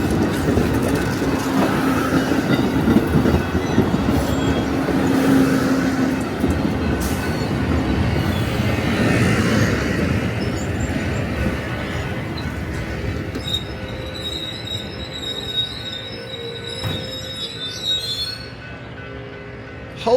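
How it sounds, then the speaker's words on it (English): An Amtrak passenger train rolling past close by, a loud sustained rumble of wheels and rail noise with metallic squeals and clicking joints, easing slightly toward the end. "That is a big train."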